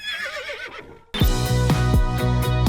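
A horse neighs, a loud wavering whinny up close, then music with a steady driving beat abruptly takes over.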